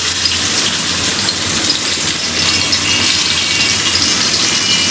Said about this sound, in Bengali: আমি এগুলো ভেজে নিব। এখন চিকেনগুলো দিয়ে দিই।